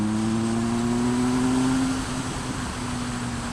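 2016 Triumph Speed Triple 1050 R motorcycle engine pulling hard under acceleration, a loud close droning tone that climbs steadily, then drops and settles into a lower hum.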